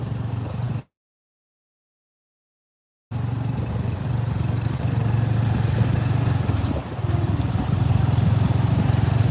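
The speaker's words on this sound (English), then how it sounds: "you can hear like a Harley engine in the front or whatever it is" A tuk tuk's engine, sounding like a Harley motorcycle, rumbles steadily nearby at an open intersection, a low continuous drone that cuts out briefly then resumes with traffic noise around it.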